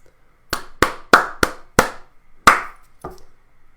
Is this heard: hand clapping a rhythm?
yes